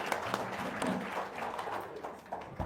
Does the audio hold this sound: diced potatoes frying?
no